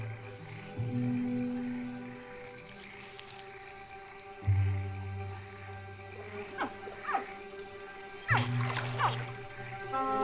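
Newly hatched caiman babies call out for their mother in the wet Pantanal of Brazil, a few short croaky chirps rising amid steady insect drone, with a low rumbling hum appearing three times in the background.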